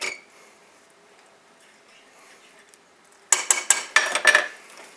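A spoon stirs a chocolate cherry protein bar mixture in a pan: a quiet stretch, then a loud run of rapid scraping clatters and clinks of metal against the pan.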